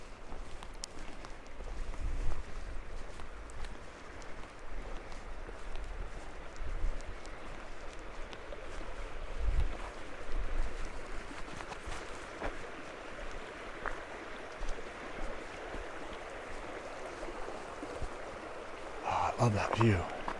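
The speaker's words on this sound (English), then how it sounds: "Oh, I love this creek." The creek at Palisades Falls rushes steadily and fairly close, a continuous broadband wash of flowing water beneath occasional footsteps and someone talking.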